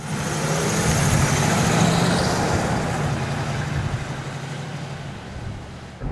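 A 1957 car pulls away and shifts from first to second gear: a near, loud engine drone climbs, then its note changes and eases off as the car settles into the higher gear.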